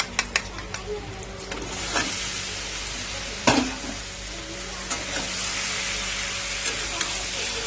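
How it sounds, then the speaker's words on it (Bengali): Chicken hitting browned onions in a hot pan sets off a loud, steady sizzle, with clattering spoon stirring, scraping strikes and hissing steam that continue throughout. "পেঁয়াজটা লাল লাল হয়ে গেছে, এবার মাংসটা দিয়ে দেবো।"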